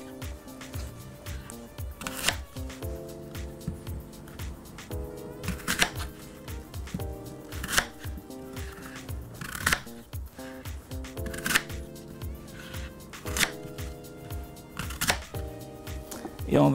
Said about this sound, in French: coupez les pommes en deux